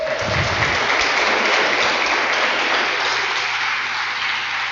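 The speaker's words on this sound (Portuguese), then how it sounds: "Aplauda o Senhor." Congregation applauding during a Brazilian evangelical celebration service at church, a loud, dense wash of steady clapping that carries unbroken from start to finish with no voices over it.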